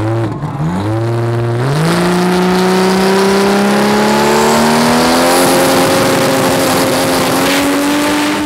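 A race car at a drag racing practice run, its engine revving loud and close with a rising, climbing roar through the gears and a steady high-pitched whine.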